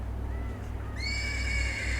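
A horse neighs from the stables in the video game Black Book, a bright, wavering whinny rising about halfway through over a low steady hum and faint ambient thumps.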